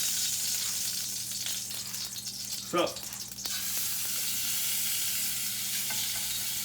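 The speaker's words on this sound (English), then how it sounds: "There's the sizzle." Oxtails hit hot oil in a pan and sizzle loudly and steadily, a dense frying hiss with a brief clatter as meat goes in, while a person speaks a word.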